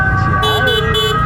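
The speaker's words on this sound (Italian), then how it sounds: "Pure l'ambulanza mentre era in emergenza gli ha bussato." An ambulance siren wails in steady rising and falling tones over Naples traffic noise and a low engine hum.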